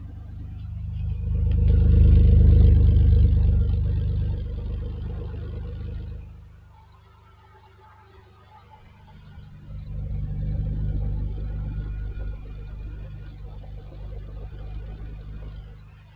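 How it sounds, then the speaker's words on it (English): A 1987 Ferrari Testarossa's twin exhausts rumble at idle close by, swelling louder twice with deep resonant burbling, no talking over it. "And we'll get a listen also to the exhaust."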